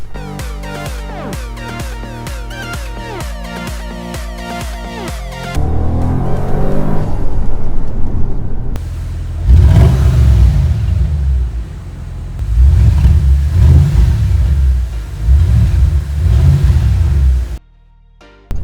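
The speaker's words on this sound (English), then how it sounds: "put your foot down and you can really hear it rumble" A 2012 Bentley Continental GT's deep engine rumble swells in surges as the car accelerates, loud and close, following some brief tonal sounds at the start.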